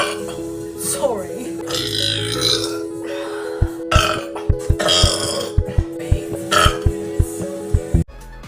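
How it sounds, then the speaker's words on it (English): A loud, drawn-out burp from a woman streaming, rumbling for several seconds and then breaking into a run of short choppy gulps and pops, with her speaking around it. "This has got to be my best burp."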